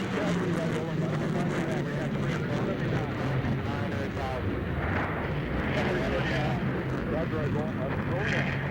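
A US Navy F-14D Super Tomcat jet in a flying display roars overhead in a continuous loud, rumbling blast that fills the air, with a commentator talking over it.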